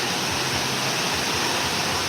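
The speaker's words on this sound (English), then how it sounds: "it starts to rain" Steady rain pouring outdoors during a kettlebell training session, a dense, even wash of hiss with no distinct drops standing out, loud and continuous throughout.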